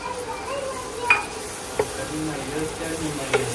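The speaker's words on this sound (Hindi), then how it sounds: "आनी तितून आमी आतां एक हाफ कप अशें उदक घाताय आनी बरें मिक्स करून घेवपाचें" Chole masala mixed with half a cup of water is stirred in a pan, with a low bubbling simmer and a few distinct spoon scrapes and taps against the pot.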